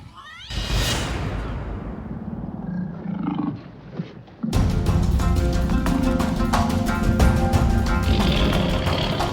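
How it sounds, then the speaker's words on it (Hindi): A tiger roars and snarls in a tense TV drama scene, a loud growling roar rising up front, then a dense burst of sound continuing under the action. "ये टाइगर उस बिल्ली को पकड़ने की कोशिश कर रहा है।"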